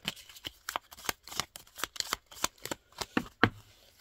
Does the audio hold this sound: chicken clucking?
no